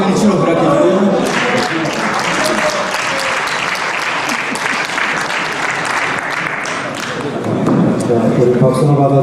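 Dense, loud applause from a large congregation at a Korean church pension members' association meeting marking a new president's inauguration, sustained throughout and swelling again near the end.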